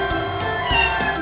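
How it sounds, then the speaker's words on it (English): A small kitten in a snowy cartoon scene gives a few short, close meows in quick succession. "The kitten! It's shaking, poor thing!"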